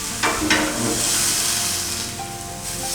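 Hariyali chicken kabab sizzles and hisses in a pan right after being turned, a steady close frying crackle with a couple of soft scrapes near the start.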